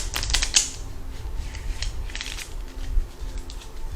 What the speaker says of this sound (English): I'll do another shuffle, and then if it doesn't pop out,